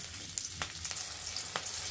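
Chopped onion and green chili hitting about a tablespoon of hot oil in a pan, giving a soft steady sizzle with a few sharper crackles and spatters.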